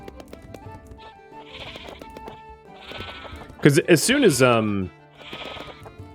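Sheep bleat in the farming game Clanfolk, several wavering cries with one loud, close bleat in the middle, set over soft background music while someone speaks briefly.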